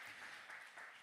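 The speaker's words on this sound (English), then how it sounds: "Can we have a huge round of applause for Una Fannin, Martin Daly, Elaine Daly, an" Applause from a workshop audience: a short stretch of steady, dense clapping, fairly quiet and continuous throughout.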